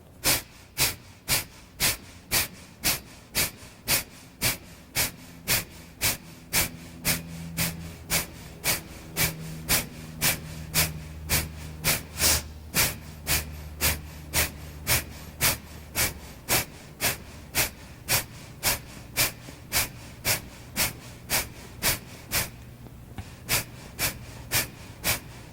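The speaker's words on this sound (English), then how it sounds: "going to do 1 minute of breath of fire" Breath of fire yoga breathing: rapid, forceful exhalations through the nose pulse in an even rhythm of roughly one every half second for about twenty-five seconds, close and distinct, with a short pause near the end.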